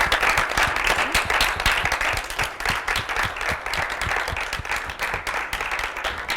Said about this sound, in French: nous allons accompagner Estélie sous des applaudissements